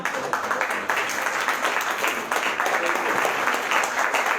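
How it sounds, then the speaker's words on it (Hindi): A church congregation at a Sunday morning service claps together, a dense, steady wash of applause lasting the whole stretch. "हम तालियां चाहें तो बजा सकते हैं"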